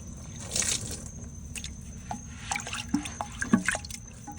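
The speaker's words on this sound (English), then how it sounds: "So we are just soaking up all this water in the tank." A sponge or towel soaks up water inside a toilet tank during a fill valve replacement, giving soft irregular drips, squishes and small splashes over a low steady hum.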